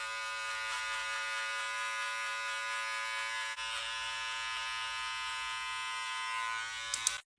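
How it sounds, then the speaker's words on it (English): Electric beard trimmer buzzing steadily while trimming a mustache, a close, even hum held for about seven seconds before it cuts off abruptly. "You want to place your trimmer on that line and use 3 strokes."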